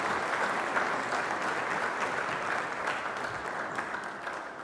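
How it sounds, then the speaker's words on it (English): Steady applause from a church congregation during a Sunday Mass, a dense, even wash of many hands clapping that holds at a constant level throughout with no voices over it. "A round of applause."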